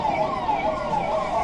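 An ambulance siren wails loudly and steadily with a rising and falling tone as it arrives at an emergency mock drill, with traffic noise underneath.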